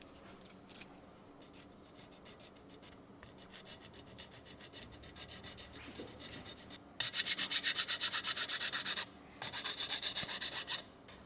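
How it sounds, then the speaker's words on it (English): Sandpaper of grit 300 to 500 on a wooden stick dry-sands the leading edge of a race hydrofoil, soft rubbing at first, then loud rhythmic back-and-forth scratching strokes up close, with no speech. "In the first I will sand it dry so I see where I sand."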